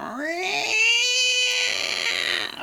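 A boy imitates a cat, drawing out a long, rising meow that holds steady before trailing off.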